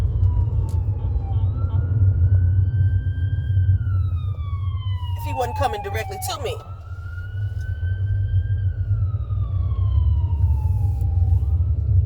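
An ambulance siren wails, rising and falling over steady road and engine noise, with a brief burst of rapid yelping partway through and someone talking.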